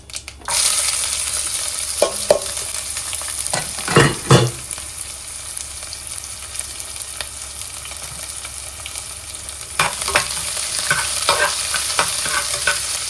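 Onions frying in a pan for a South Indian breakfast dish, stirred with a spoon: a steady bright sizzle with a few clearer scraping stirs and clinks near the start and again toward the end.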